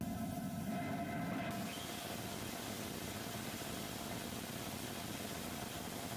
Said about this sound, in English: So that's the rotating detonation engine.